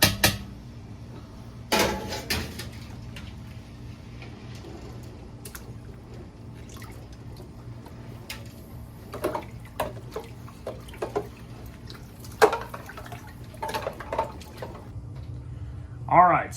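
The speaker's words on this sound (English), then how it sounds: "we'll dump that one in the cold water" Blanched home-grown broccoli is tipped into a cold ice-water bath, giving a few short splashes and clatters of a pot and ice between quieter kitchen stretches, with faint dripping throughout.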